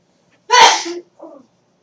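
A single loud, close human sneeze, a sharp explosive burst followed by a short softer exhale in otherwise silent surroundings.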